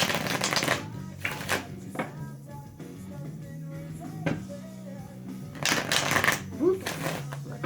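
Tarot deck shuffled by hand in quick bursts, crisp riffling rattles at the start and end with a quieter stretch between while a voice talks over it.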